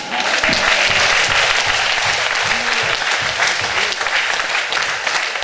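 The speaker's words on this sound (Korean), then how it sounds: "아멘 많이 하시는 분들 하나님께 영광 박수를 주시옵소서." A church congregation at an evening summer revival gathering gives a loud, steady burst of applause, dense clapping that continues without a break for about five seconds.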